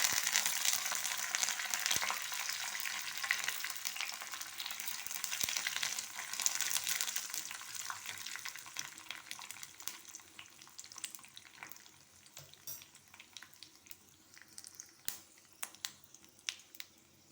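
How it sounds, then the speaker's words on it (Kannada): Mustard seeds crackling and popping in hot oil for tempering, with curry leaves and dried chillies in the pan, a dense steady sizzle that thins out into scattered sharp pops toward the end. "ನೋಡಿ ಸಾಸಿವೆ ಕೂಡ ಸಿಡಿತಾ ಇದೆ."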